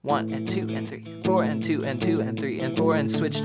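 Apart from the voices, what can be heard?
No distinct noise like a dog, phone or traffic.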